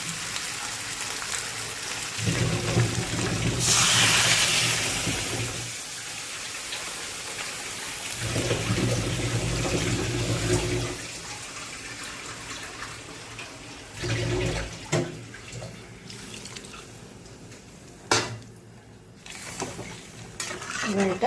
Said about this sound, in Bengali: এবার আমার জল দেওয়ার পালা।